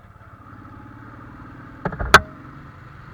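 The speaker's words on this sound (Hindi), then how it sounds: "तो बाइक स्टार्ट करके ही नहीं रखनी, बल्कि थोड़ी सी चला भी रहा हूँ मैं" A Royal Enfield motorcycle sitting unused for two months idles with a low, steady thumping rumble, broken near the end by a couple of sharp mechanical clatters.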